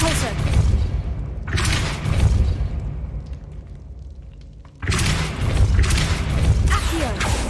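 The Repulso force spell in Hogwarts Legacy, heavy thumping blasts with rumbling bursts that come in loud waves, fall away to a quieter stretch, then surge again in a loud forceful burst.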